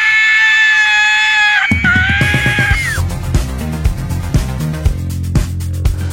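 A mermaid character in the film The Lure lets out a loud, high, sustained scream lasting under two seconds. The scream then drops away into dense music.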